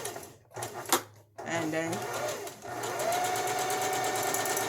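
A home sewing machine stitching, its needle motor whirring up in a few short starts and then running steadily through a back stitch, close and loud, with someone speaking briefly at the start.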